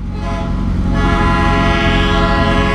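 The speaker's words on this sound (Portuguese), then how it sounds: "Eita, o trem vai passar ali agora" A train rolls past close by at a level crossing, a loud continuous rumble of wheels and cars with a sustained tonal horn-like hum throughout.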